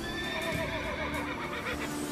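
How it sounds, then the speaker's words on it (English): K-9, the robot dog from a Doctor Who spin-off, making a horse noise: a quavering whinny rising and wavering over a soft background, fairly faint, with faint hoof-like clopping beneath. "K-9 is hovering over CCPC making a dog and horse noise"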